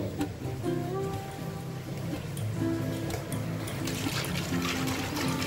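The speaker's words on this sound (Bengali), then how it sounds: "তো এবার আমি একটু ঝাঁকিয়ে নেব" A closed bottle of homemade vinegar mixture is shaken, its liquid sloshing and rattling in a steady, close, continuous wash for several seconds, with no voices.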